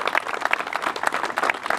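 A crowd claps continuously at an outdoor inauguration of an ibex sculpture for the Mercantour national park, a dense, steady patter of many hands close by.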